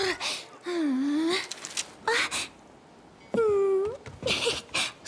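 A cat in a video game meows and wails in three drawn-out, rising and falling cries, fairly close, with short gaps of quiet and brief softer sounds between them.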